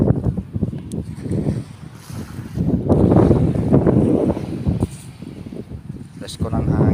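Wind buffets the microphone at a crowded seaside beach, a steady rough rush swelling in gusts throughout, with people talking over it.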